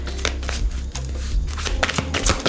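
An oracle card deck shuffled by hand up close, a steady run of soft riffling card flutters with no talking.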